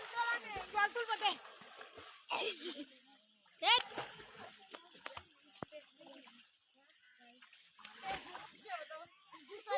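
Water splashes and sloshes as it is drawn up during a ritual immersion for Itu puja, in irregular close bursts mixed with children's chatter and other voices talking over it.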